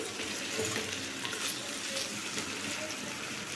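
Kankoda, spiny gourd sabzi, fries in an open pan with a soft, continuous sizzle that stays fairly quiet and even, with faint scraping from occasional stirring underneath.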